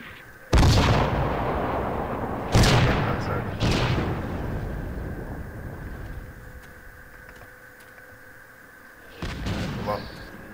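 Heavy gunfire in the military video game Project Reality, with several loud booming shots spaced seconds apart, each trailing off into a long rumbling decay, followed by a quieter stretch and another burst.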